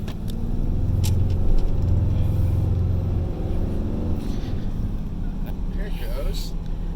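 A 2019 RAM 2500 Limited Mega Cab 4x4 pickup truck accelerates at full throttle, heard from inside the cab as a loud, deep engine rumble that swells, then settles into a steady drone, with a voice speaking over it.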